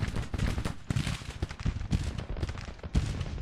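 Dense rolls of cannon and artillery fire rumble through a Civil War battle in the strategy game Grand Tactician, continuous overlapping booms and crackles with no pause throughout.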